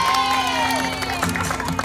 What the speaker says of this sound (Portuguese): Uma salva de palmas para a Jane!